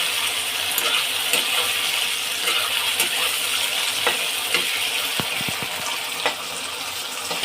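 Okra sizzles steadily in a hot pan for a Bengali home-cooked dish, a continuous frying hiss with occasional stirring clinks and scrapes, close and loud, no talking.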